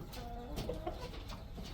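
Soft, low clucking from an Aseel chicken on a chicken farm in Chennai, a few short murmured calls over faint background noise.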